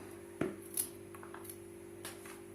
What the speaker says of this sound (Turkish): Şu şekilde doğruyorum.